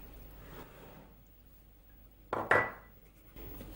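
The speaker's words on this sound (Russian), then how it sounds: "Теперь я добавляю сюда яйцо." An egg is added to grated, strained potato in a bowl for Hutsul-style potato pancakes: a quiet kitchen hush, then a brief, close clink and tap against the bowl around the middle of the clip, with no voice.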